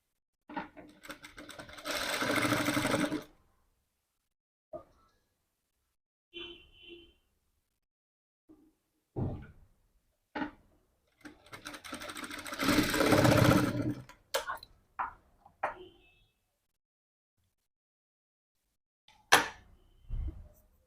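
A sewing machine stitching a blouse runs in two longer bursts of rapid whirring plus several short spurts, separated by quiet pauses and a voice speaking between them.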